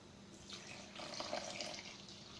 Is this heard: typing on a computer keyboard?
no